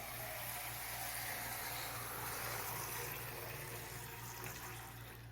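Liquid water pours steadily into a container in a lab demonstration, a constant, fairly quiet rushing flow with no talk over it.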